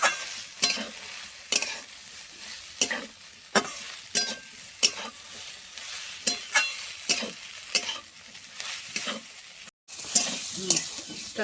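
Fried neem leaves stirred into potato and brinjal frying in a pan, with steady rhythmic scraping strokes against a continuous sizzle, close and clear, with a brief drop-out near the end and no speech.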